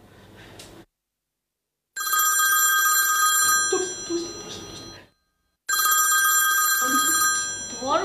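A landline telephone rings in two long bursts of bright trilling bells separated by silence, loud and close with nothing else over it.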